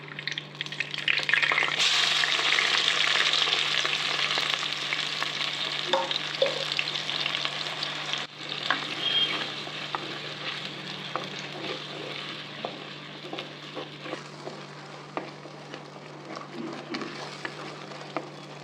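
Spice paste for a spicy fish iguru curry frying in hot oil with curry leaves, a loud, steady sizzle that jumps up when the paste goes in and then crackles on with occasional stirring scrapes close by.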